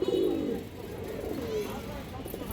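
Kaldom pigeons in a cage give a soft throaty coo at the start, fairly faint and close, followed by a low background hum.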